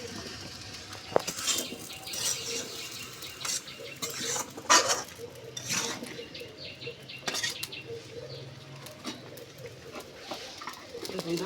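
Pumpkin being stir-fried with spices in a pan, with repeated scraping and stirring clatters at close range over a low background murmur, with faint bird calls nearby.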